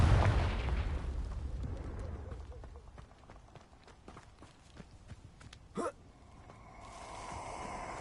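A Confringo blasting spell explodes in the Hogwarts Legacy video game: a loud, rumbling burst at the start that fades into game ambience, followed later by a sharp, brief crackling blast.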